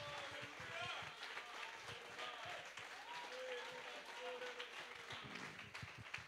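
A church congregation applauds in a dense, continuous patter of clapping, fairly distant and steady, with voices calling out over it.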